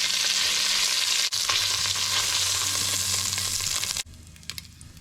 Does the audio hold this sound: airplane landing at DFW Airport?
no